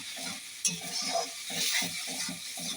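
Fried crab being stirred with garam masala in a pan, a steady sizzle under repeated rhythmic scraping strokes of the spoon, close and fairly loud throughout.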